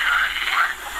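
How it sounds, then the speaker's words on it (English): A frog's raspy, buzzing croak, one continuous burst lasting about a second, loud and close with no talking over it. "Or do you know how does a frog sound?"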